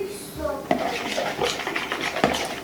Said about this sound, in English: So we're going to mix this up really well